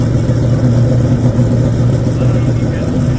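Rally cars returning downhill after a hill climb race at Trento Bondone, their engines rumbling loudly and continuously close by, with a voice talking over them.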